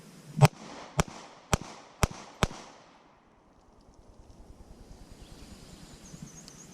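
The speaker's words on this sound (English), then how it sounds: "I'm going to have to shoot the Glock 48 and the Beretta at it." Five sharp, loud pistol shots from a Glock 48 and a Beretta fired at a target ring out at roughly half-second intervals, followed by quiet outdoor ambience with faint insect buzzing.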